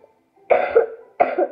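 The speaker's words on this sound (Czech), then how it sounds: "Já trochu kašlu, takže se prosím vás nedivte" Two harsh coughs from one person, close and loud, a short pause between them, while playing Roblox.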